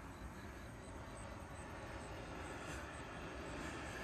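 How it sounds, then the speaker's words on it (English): An airliner descends toward Reagan National Airport (DCA) in Washington, heard from near the Lincoln Memorial as a faint, steady, distant roar of jet engines blended into broad outdoor city hum, with no talking. "Oh, here comes a plane"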